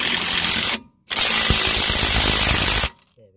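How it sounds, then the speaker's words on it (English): A power tool tightens the anti-roll bar top mount nut on a VW, heard as two loud, close bursts of impact driver whirring separated by a short pause, then a faint clink and a brief murmur of speech. "Just gonna secure the anti-roll bar top mount"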